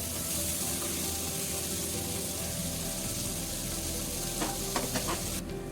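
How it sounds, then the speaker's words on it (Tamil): Tomatoes frying in a pan for chicken biryani, a loud continuous sizzle close up with a few stirring knocks near the end, no talk. "இப்போ தக்காளி போட்டுடலாம். தக்காளி போட்டுட்டு அது நல்லா மேஷ் ஆகி வர வரைக்கும் வெயிட் பண்ணுங்க."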